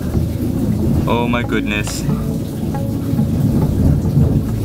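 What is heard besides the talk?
thunderstorm with thunder and rain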